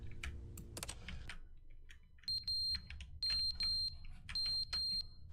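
Fire alarm in The Stanley Parable: Ultra Deluxe beeping in short repeated high-pitched chirps at steady intervals, with keyboard typing clatter at the start.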